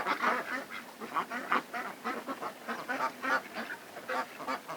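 Farm ducks quack repeatedly in a steady, busy chorus of overlapping calls, fairly close and moderately loud throughout, with no voices.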